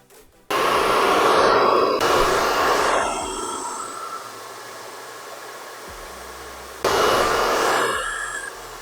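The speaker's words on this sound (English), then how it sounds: "Once we're done blow drying that into shape" Hair dryer blow drying a graduated bob haircut, a loud close whooshing roar that drops to a softer setting midway and then surges again near the end, with no talking.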